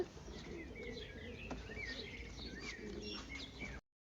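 Pigeons, including Budapest tumblers, coo softly indoors in a pen among scattered bird chirps and twitters, fairly quiet and steady, then the sound cuts off abruptly.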